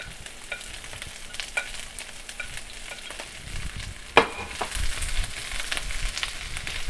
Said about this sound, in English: first we're going to put in the onions and the celery. We're going to cook that for about 2 minutes.